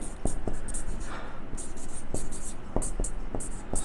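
Numbers handwritten while working a school math problem, giving faint scratchy pen strokes and small taps against steady background noise, with a quiet voice nearby.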